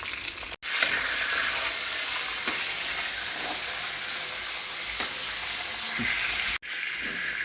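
Dried fish frying in hot oil makes a loud, dense, close-up sizzle that runs steadily throughout, broken by two brief dropouts, with no voices.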